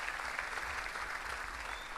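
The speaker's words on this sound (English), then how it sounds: "Give yourselves a round of applause for reaching this far." New students at a university orientation give themselves a round of applause, a faint, even wash of crowd clapping heard from a distance.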